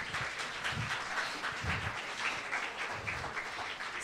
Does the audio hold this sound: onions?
no